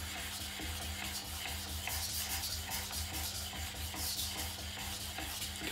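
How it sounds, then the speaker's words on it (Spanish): Knife blade of a Nesmuk Soul being sharpened on a whetstone, a soft continuous hissing scrape with faint rhythmic strokes over a low steady hum, quiet and close, no voices. "al trabajar una línea mucho más delgada, se oye ese sonido siseante sobre la piedra"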